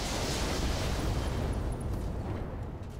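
Mech weapons firing with heavy explosions in the video game Roguetech, a dense, loud, continuous roar of booms and blasts filling the whole stretch.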